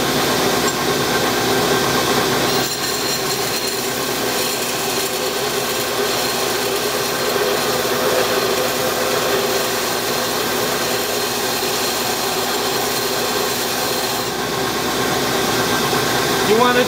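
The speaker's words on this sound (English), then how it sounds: "I can apply a pressure this way so that I get a nice even grind across my knife handle" Belt grinder grinding a full tang knife handle, a steady loud motor whine with abrasive rasping that varies slightly in pressure throughout, close, with a voice talking over it.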